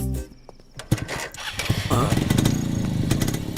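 A motorcycle engine starts and rises into a loud, steady rumble close by, in a scene from the Hindi-dubbed South Indian film Bloody Mental, with some voices faintly under it.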